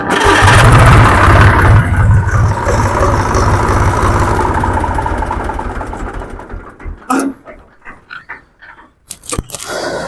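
A Swaraj 735 FE tractor engine self-starts and runs with a loud, steady diesel clatter for several seconds, then fades away into scattered knocks and clicks.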